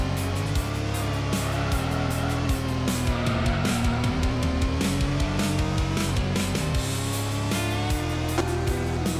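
A race car in the PS1 video game Gran Turismo drives at speed: a loud, continuous engine roar rises and falls in pitch through gear changes, with no voices.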